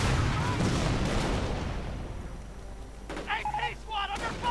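Gunfire and explosions in a 2v2 online war strategy game match, a dense burst of rumbling shots fading over several seconds, with short chirping game sounds toward the end.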